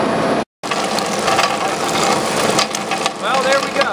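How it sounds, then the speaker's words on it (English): Whole pistachios are fed into a screw press, producing a loud, steady grinding and crunching churn with ratchety mechanical clatter and a brief cut-out near the start. "That's the whole one going into the screw press."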